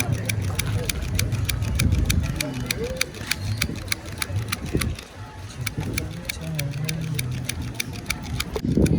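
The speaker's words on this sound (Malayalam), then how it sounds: "ഇത് തയ്യൽ മെഷീനാണ്, കൈ കൊണ്ട് തയ്ക്കുന്ന." A hand-cranked sewing machine runs with a steady, rapid ticking stitch rhythm through a night street setting in Kanyakumari, with people talking nearby and traffic-like rumble underneath.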